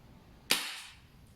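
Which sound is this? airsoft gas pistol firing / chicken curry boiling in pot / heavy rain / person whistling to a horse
airsoft gas pistol firing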